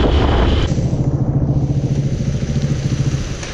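A small motorcycle being ridden on errands in Tapachula, its engine putting out a steady pulsing mid-pitched drone close up for a few seconds, with no talk.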